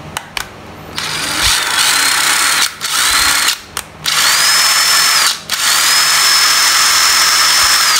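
Used Japanese cordless battery drill running on a connected battery, a loud close motor whine revving up and holding steady, stopping and restarting in several bursts at varying speed.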